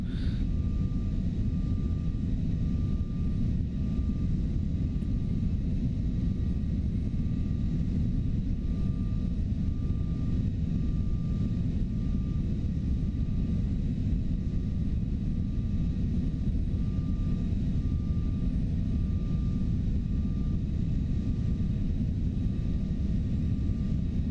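Steady jet engine rumble and hum from an Embraer Lineage 1000 business jet simulated in X-Plane 12, continuous and fairly loud throughout with a faint constant tone and no talking.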